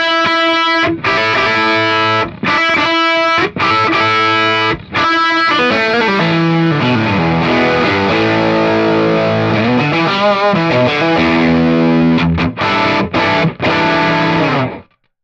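An overdrive pedal running at 18 volts with every knob maxed, driven into thick, fuzzy high-gain distortion; loud sustained guitar chords ring out alone, broken by short stops and stabs, with no talking.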